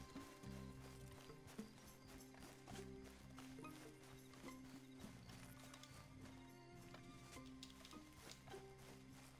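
Horse hooves clip-clop steadily in Red Dead Redemption 2, a repeated rhythmic clatter layered over a busy game soundscape with music and ambient noise, with no talk.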